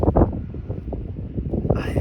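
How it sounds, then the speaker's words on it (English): Gusty wind buffeting a microphone outdoors at a shooting range, a steady low rumble with uneven surges, loud and close throughout. "it's windy, it's gusting"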